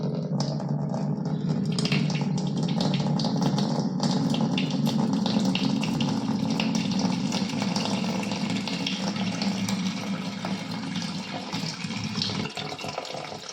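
Tap water pours steadily into a bucket beneath a slightly leaking faucet, a continuous close splashing rush that runs unbroken for the whole stretch with no voices over it.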